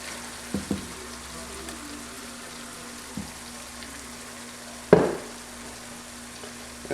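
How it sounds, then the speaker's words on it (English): Onion and meat sauce sizzles steadily in a pot, a soft continuous frying hiss broken by a few scrapes and one sharp clunk as diced tomatoes go in. "Now we're going to add in our diced tomatoes."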